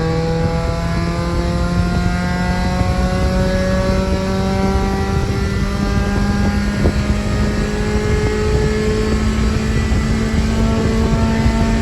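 A Honda Civic newly swapped to a manual gearbox drives on its first outing, its engine droning loud and close with rising, shifting harmonic pitch as it pulls through gears, with heavy road and wind roar throughout.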